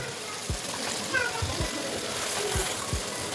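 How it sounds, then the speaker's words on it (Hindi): Half a glass of water is poured into chicken karahi gravy in a cooking pot, making a steady soft hissing pour with a few faint low splashes, while a voice murmurs in the background. "अब मैं इसमें आधा गिलास पानी शामिल करूंगा ताकि थोड़ी सी ग्रेवी नरम हो जाए"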